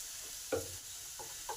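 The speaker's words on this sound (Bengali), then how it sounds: "আগে আদাটা ভালো করে একটু ভেজে নিই।" Ginger fries in a pan among beans and cauliflower for a vegetable oats soup, with soft hissing sizzle and a few brief scraping stirs of a spoon.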